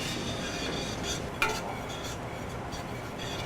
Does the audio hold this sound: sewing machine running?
no